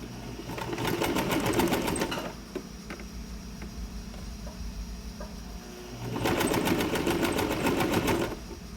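A sewing machine stitches a skirt seam in two fast, loud bursts of rapid mechanical clatter separated by a quieter pause of handling noise.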